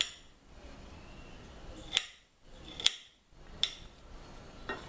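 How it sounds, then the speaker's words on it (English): A knife chopping small amounts of insect-repellent ingredients directly on a plate, giving a few sharp, sparse clinks of blade on ceramic at uneven intervals, close up and without speech. "Chopping it on the plate because it's not a lot."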